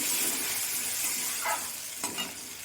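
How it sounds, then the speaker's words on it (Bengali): Ground ginger-cumin paste sizzles in a hot pan after a splash of water is added, a steady close hiss with a couple of brief stirring scrapes and no talk. "আদা জিরে বাটা বাটিটা ধুয়ে আমি একটু জল দিয়ে দিলাম"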